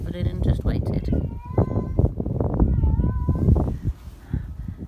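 A cat meows a few times up close, short tonal cries mixed with nearby talking and household sounds.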